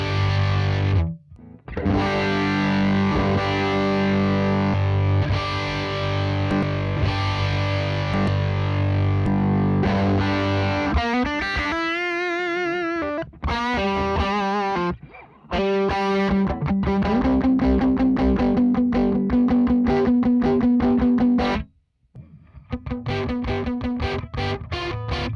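Heavily distorted electric guitar played through two amp profiles blended in mono, loud sustained chords and riffs with brief gaps between phrases.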